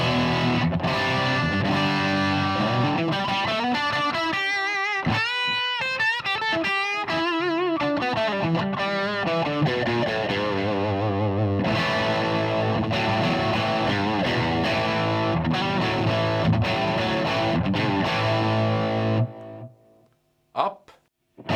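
Electric guitar through a TC Electronic Dark Matter distortion pedal with its voice switch down, a thick, saturated tone playing sustained chords and bending lead lines, loud and continuous before cutting off near the end.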